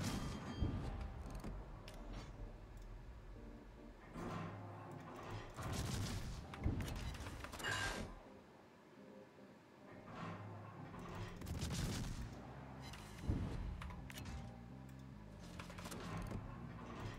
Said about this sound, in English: Accuracy of these guns is really good. I mean, look at that shell grouping.